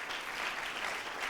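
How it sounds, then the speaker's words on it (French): A theatre audience applauds a jury member at an a cappella singing competition, a brief, steady wash of clapping from the crowd with no voices over it. "Premier applaudissement pour Diababa."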